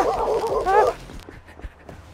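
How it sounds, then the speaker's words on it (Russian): Dogs sent on an attack command give a short burst of close, excited barking and yelping, then drop away to quieter scuffling sounds. "За мной гонятся собаки!"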